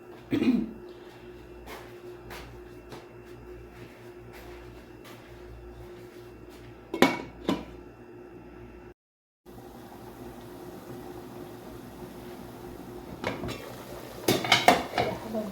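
A cooking pot and metal utensils clank sporadically while zucchini goes into a meat soup being made Upper Egyptian style, with sharp clinks and scrapes spaced over low kitchen hum and a brief silent gap midway.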